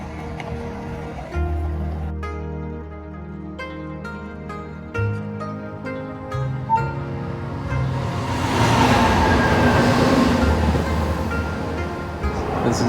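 A Tokyo subway train near Shinjuku rumbles along, low motor tones shifting as it runs, rising into a broad rushing roar of wheels and air.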